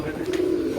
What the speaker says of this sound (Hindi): ये 2 कबूतर है ना, ये लड़ रहे हैं इसके साथ।